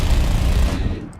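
A Stormer minigun in War Thunder firing at 2500 RPM, one loud unbroken roar of automatic fire close up that cuts off abruptly near the end.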